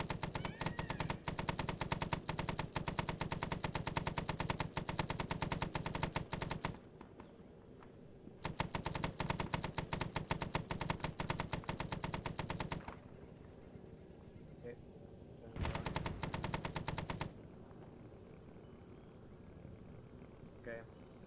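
Sustained bursts from a helicopter-mounted M60 machine gun in a Vietnam-era Hamburger Hill game mission, long steady rattling streams broken by short pauses, with quieter rotor and ambient noise between bursts.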